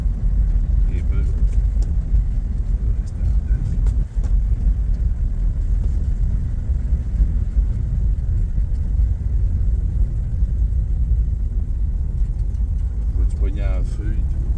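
Engine of a 1954 Hudson Super Jet car running at close range, a steady low rumble that swells slightly as the throttle is opened, with voices talking over it throughout.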